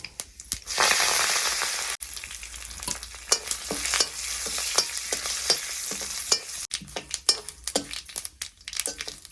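Mustard seeds and curry leaves hit hot oil in a wood-fired stove kitchen, bursting into a loud hiss that settles into irregular crackling pops and stirring scrapes.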